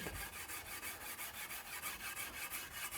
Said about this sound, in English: it's not requiring nearly as much scrubbing with the steel wool